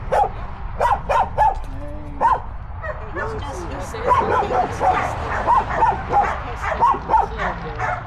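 A dog barks and yips repeatedly in short bursts during a bite-work evaluation, with a person talking over much of it.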